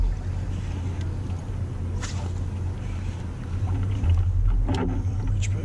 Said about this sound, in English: Reach back here and turn this trolling motor off.